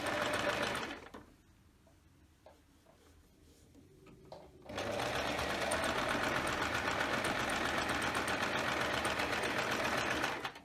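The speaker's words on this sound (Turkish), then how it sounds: "Kolaylıkla dikiyorum." A home sewing machine stitching leather runs loud and steady with a fast whirring, buzzing rhythm, drops to a pause of a few soft clicks, then starts again and runs continuously until the end.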